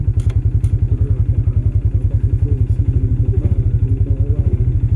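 A motorcycle labouring uphill in low gear, its engine thumping in a loud, fast, even rhythm close by, with a couple of brief clatters near the start and no talking.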